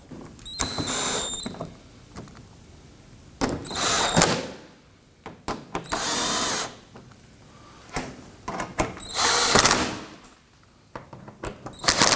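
Power tool bursts snugging down screws on a 2018-2024 Toyota Camry engine splash shield, several separate runs of a few seconds each with quiet gaps and small clicks between them, close and loud.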